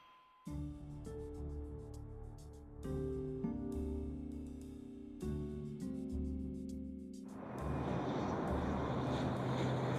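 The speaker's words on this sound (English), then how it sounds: "Northwest Airlink Flight 5719 cruises across the skies of Minnesota." Airliner cruising over Minnesota: a steady engine drone sits beneath swelling orchestral music, giving way near the end to a loud, broad rushing roar.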